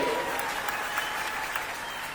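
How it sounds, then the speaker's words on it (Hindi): Audience applause at a state-level Muslim political rally, a steady, even wash of clapping from a crowd that fills the whole stretch without swelling or fading. "कमजोर तालियां थी, जोरदार तालियां होना चाहिए।"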